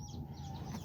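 A chicken or rooster at a cousin's house gives a quick, faint cluck in a single short burst.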